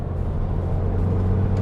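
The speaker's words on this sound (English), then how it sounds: "induction sounds from the new intake" A VW MK7 GTI with a new intake, low steady induction rumble and engine hum from inside the car, even and unbroken.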